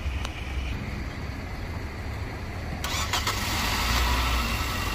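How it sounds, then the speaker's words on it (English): A Nissan Rogue being jump-started from another car with cables: a low engine rumble runs steadily, then a brighter burst of cranking and catching near the end as the engine fires and settles into a louder, continuous run, with no talking. "turn the other car on now, and then try to start this one"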